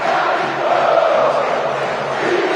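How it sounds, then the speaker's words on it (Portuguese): Flamengo supporters fill a football stadium with a massed chant, a dense, continuous roar of many voices at steady loudness throughout. "Fica Gabigol, grita a torcida do Flamengo"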